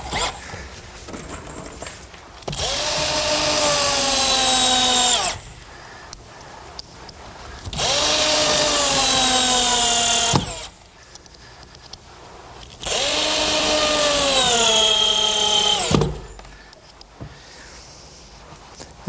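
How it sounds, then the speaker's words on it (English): Power drill driving 2.5-inch galvanized bugle head screws into picnic table boards: three sustained whirring runs, each winding down in pitch as the screw seats, separated by short pauses. "what I'm trying to do here is get 3 screws in each board"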